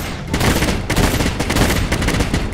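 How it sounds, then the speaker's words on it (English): Rapid machine gun fire from the mobile game Monster Hunter Now, used against a 7-star Barroth, a dense, continuous rattle of shots at steady high volume with no pauses. "The sound of Machine Gun."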